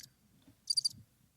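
A soundboard effect of a cricket chirping gives three quick, bright pulses in one short burst over near silence.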